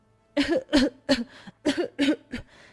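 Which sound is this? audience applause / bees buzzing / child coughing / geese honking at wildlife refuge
child coughing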